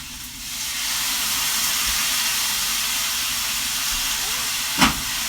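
Water poured into a hot pan of roasted beets sets off a steady steaming hiss that fills the clip, with a brief louder burst near the end and no talk.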